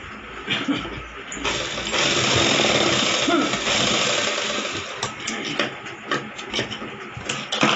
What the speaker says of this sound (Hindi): पल्ला रखेंगे और उसे भी स्टिच कर देंगे।